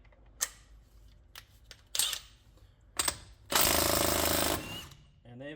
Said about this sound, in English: Now I'll put the 32mm axle nut on here